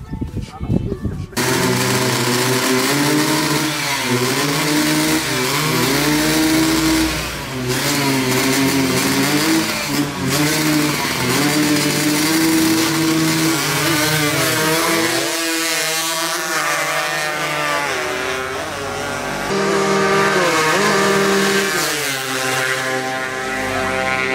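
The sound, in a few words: tuned carburetted motorcycle engine revving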